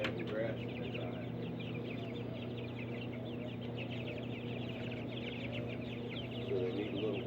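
Chickens cluck softly and intermittently on a small farm, fairly quiet against a constant low hum, with a few sharper squawks near the start and end.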